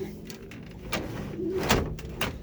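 Racing pigeons in their loft, soft close cooing mixed with rustling and a few knocks, fairly loud and continuous.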